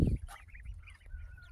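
A chicken in a backyard coop gives a few short honking clucks and squawks, fairly close but soft, over a low background rumble.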